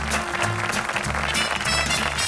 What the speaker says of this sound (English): that deserves a louder round of applause